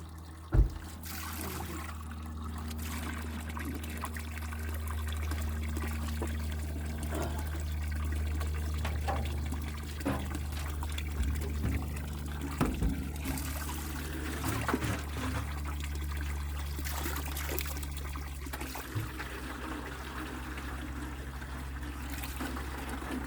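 Spring water pours steadily from a natural spring into a 5-gallon container, a continuous close trickling gush with occasional splashes and knocks, running throughout without talk.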